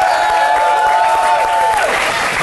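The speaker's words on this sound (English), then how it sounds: "Ladies and gentlemen, give Chris Kirby a round of applause." Loud audience applause and cheering for comedian Chris Kirby, a dense continuous wash of clapping from a crowd, close and full throughout, with a sustained tone running beneath it.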